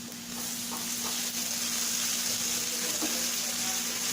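Onions and ginger garlic paste sizzle steadily in a pan for Tamil-style soya keema made with meal maker chunks, a continuous close frying hiss with faint scraping, no talk.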